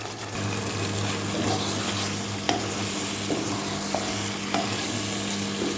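Meat stir-fried kosha-style in a pan hisses and sizzles continuously up close, with a spoon scraping and clinking now and then against the pan; a low steady hum runs underneath.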